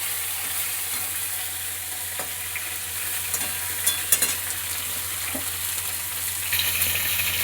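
Rohu fish pieces coated in salt and turmeric fry in hot oil, a steady close sizzle with a few soft crackles and pops, no voices.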